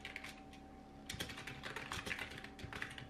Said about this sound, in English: So I got this keyboard from Amazon, literally just so that I have, like, the clickies.